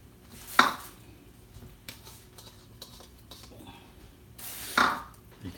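Garlic and onions drop into a pot for a vegan sinigang vegetable soup, giving two quiet clattering impacts about four seconds apart over a low, faint kitchen background.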